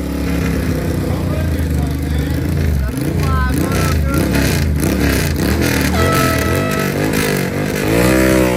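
Old vintage motorcycles run at a hill climb event, engines droning and revving continuously from mid-distance over crowd noise, with a commentator's voice talking over them.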